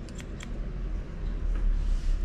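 Scissors snipping hair during an undercut haircut in a barber setting, a few quick crisp snips near the start over a steady low background hum.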